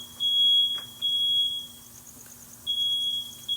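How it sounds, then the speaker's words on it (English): A smoke alarm goes off during braai grilling of rib eye steak, giving loud piercing electronic beeps in long on-off bursts against a quiet room background. "Smoke alarm's going off."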